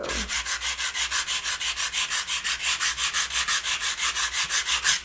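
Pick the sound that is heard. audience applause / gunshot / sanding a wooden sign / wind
sanding a wooden sign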